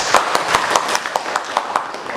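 Scattered classroom applause, a handful of students clapping unevenly for about two seconds, with sharp individual claps standing out over a background of room noise and murmuring.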